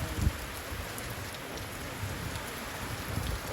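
Heavy rain falls outdoors in Vadnagar, a constant close hiss of drops hitting surfaces with a brief louder spatter near the start, no one speaking.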